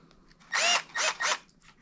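A Milwaukee M12 cordless screwdriver running in three short whirring bursts, near and fairly loud, separated by brief pauses, with quiet background between them.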